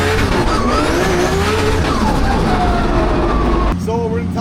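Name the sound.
drift car skidding with handbrake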